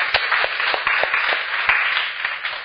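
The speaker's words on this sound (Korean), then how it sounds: "하나님께 감사의 박수 드리겠습니다" Church congregation at an evening revival service claps in thanks to God, brisk overlapping clapping with a few sharper individual claps standing out, steady and fairly close throughout the short burst.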